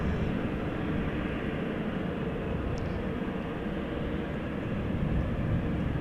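A jet airplane at Amsterdam Schiphol Airport gives off a constant, broad, loud roar that holds steady throughout with no breaks.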